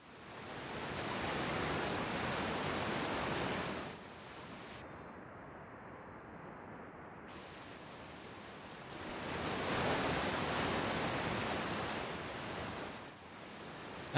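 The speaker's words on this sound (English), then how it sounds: "Oh, it's a waterfall." A waterfall in the video game Outer Wilds roars as a broad, steady rush of white noise. It drops to a softer, muffled wash for a few seconds and then swells back to full strength.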